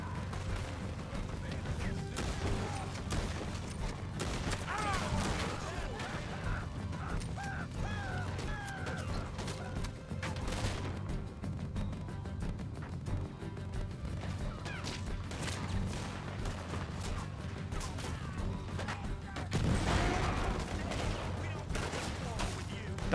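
Gunfire and explosions rattle through a chaotic firefight in the video game Red Dead Redemption 2, dense crackling shots and crashes continuing with a heavier blast late on, mixed under game sounds.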